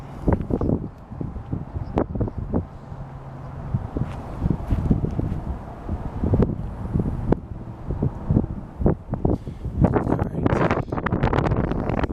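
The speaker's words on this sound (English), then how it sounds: "the wind is picking up" Gusty wind buffets the microphone in bursts and rustles through Vivian Park while fishing, rising and falling over about twelve seconds, loud and close, with no voices.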